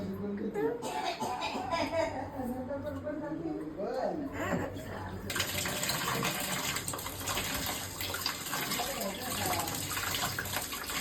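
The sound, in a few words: water running from tap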